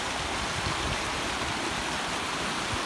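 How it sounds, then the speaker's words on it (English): A small brook flowing in a wooded hillside area, heard as a steady, dense rushing and babbling of water that stays even throughout, close and fairly loud with no talking. "It's a small little brook."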